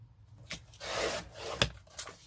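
A paper piece for a corset spine journal being trimmed, heard as a few short, close scraping and rasping cutting strokes with brief pauses between them and no talking.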